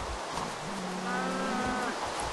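A Minecraft cow lets out a single drawn-out moo, clear and near, over a faint steady background hiss.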